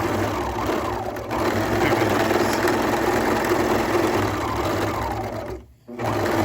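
A sewing machine runs steadily at close range stitching quilt fabric, with a continuous mechanical whir and rapid stitching rhythm, briefly pausing near the end before starting again.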